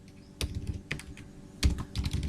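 Close computer keyboard typing while code is entered, quick irregular clusters of clacky keystrokes with a couple of louder presses, no voice.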